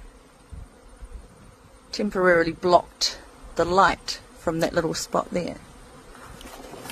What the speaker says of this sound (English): bees that got into my office and are now trying to escape because they're going towards the light